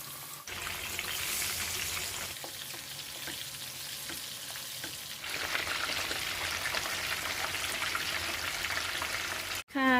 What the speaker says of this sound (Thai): จากนั้นเราก็ทอดปลาได้เลยเนาะทอดปลากันค่ะ